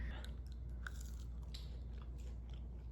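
A french fry dipped in spicy special sauce is bitten and chewed close to the mouth, soft crunches over a few seconds with faint background hum.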